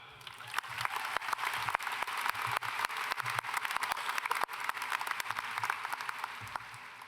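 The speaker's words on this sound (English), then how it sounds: "One more round of applause for our leadership for our student council" A high school graduation crowd applauds with sustained, dense clapping and sharp individual claps standing out nearby, a broad steady roar of hands lasting throughout.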